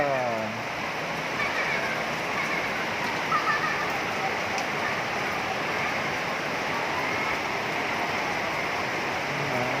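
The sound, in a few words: heavy rain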